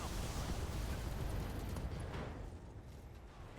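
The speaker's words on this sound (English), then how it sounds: "Lasers and missiles!" Lasers and missiles firing in the mech combat game Battletech, a dense, loud rumbling barrage of blasts and explosions that fades gradually toward the end.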